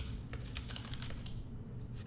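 A loud mechanical keyboard clacks in rapid, uneven runs of sharp keystrokes, heard close over a steady low background hum.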